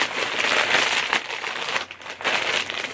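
Dense, continuous crinkling and rustling of plastic wrap being pulled and torn open on a package of shirts, close up, with a couple of brief pauses.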